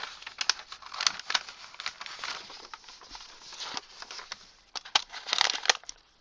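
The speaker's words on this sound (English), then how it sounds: "sorry about the crinkling" Sheets of tracing paper crinkle and rustle close by in irregular, fairly faint bursts, with quick crackling handling sounds spread through the whole stretch.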